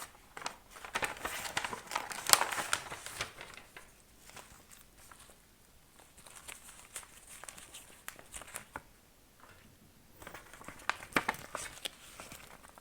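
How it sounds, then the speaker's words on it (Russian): A paper envelope from a gynecologist is handled up close, with bursts of crinkling and rustling at the start and end and quieter shuffling in between. "Также гинеколог дала мне вот такой конверт."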